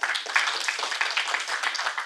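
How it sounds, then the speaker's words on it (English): At a women's poetry event, a small audience gives a short round of applause, many hands patting in quick, fairly close clapping throughout. "a big round of applause to her"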